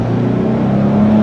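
A 2013 Jeep Wrangler Sahara accelerating at full throttle on the road, its engine holding a loud, steady drone with no other sound.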